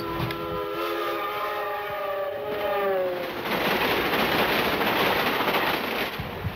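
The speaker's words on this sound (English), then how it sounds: "Today, there are 22 passenger trains go past here." A passenger train at a rural junction rumbles past with a steady broadband roar, its horn sounding briefly at the start before the noise swells and continues.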